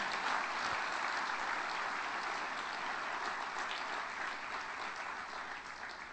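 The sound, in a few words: congregation applauding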